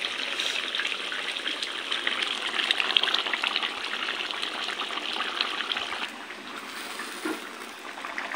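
Water at a rolling boil in a cooking pot, heated for making pulao, gives a steady, close, rushing and bubbling wash of noise that holds for several seconds before easing slightly, with no talk over it.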